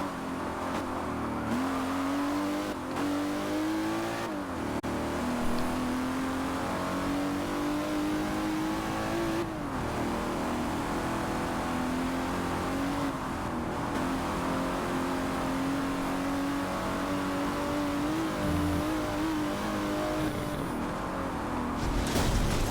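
An Aston Martin DBR1 races in Forza, its engine revving hard and climbing through the gears with repeated upshift dips. The engine note holds loud and continuous throughout, with some tire noise and no voices.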